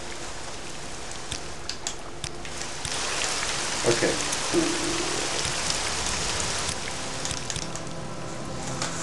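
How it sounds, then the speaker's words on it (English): Gentle rain ambience in the video game Morrowind, a steady soft hiss of rainfall on surfaces that fills the whole stretch, with someone speaking briefly over it. "like a subtle rain, a nice rain now. It's a gentle rain."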